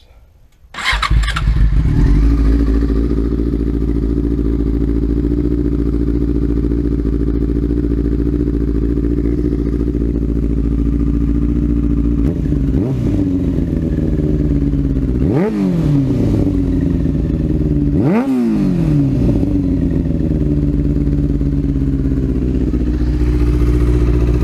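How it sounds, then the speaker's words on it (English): A 2002 Yamaha R6 with a Yoshimura exhaust cranks and catches, then settles into a loud, steady idle with a deep exhaust burble, with three sharp throttle blips near the end. "We're gonna do a quick startup and listen on to the Yoshimura exhaust on my RSX 2002."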